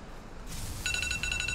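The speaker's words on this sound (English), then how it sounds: "Oh, my alarm's going off." A phone alarm goes off indoors over a gaming session, a rapid series of high electronic beeps in two short bursts above a steady low background hum.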